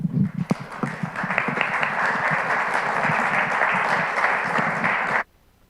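Audience applause in a cathedral forum welcomes Dr. Celene Lillie, a steady wash of many hands clapping that holds for about five seconds, then stops abruptly.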